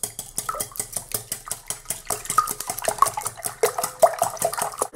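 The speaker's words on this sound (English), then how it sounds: "now I'm going to whisk it all together" Eggs, ricotta, salt and pepper are whisked in a bowl, giving a rapid, steady rhythm of close metallic clinks and wet sloshing strokes that continue for the whole stretch.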